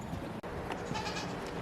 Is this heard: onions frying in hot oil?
no